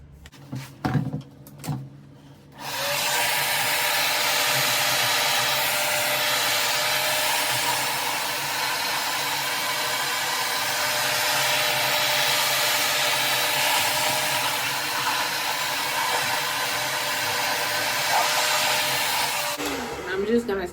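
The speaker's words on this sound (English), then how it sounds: "blow dry it on high" A hair dryer on high blows over a bonnet covering braided hair, a loud, steady roar that starts after a few brief handling noises and runs almost the whole time before cutting off near the end.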